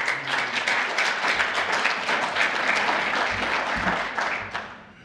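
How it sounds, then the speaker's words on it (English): An audience at a Pittsburgh economic forum gives a sustained round of applause, a thick, even roar of many hands clapping that fades away in the final second. "give yourself a nice round of applause"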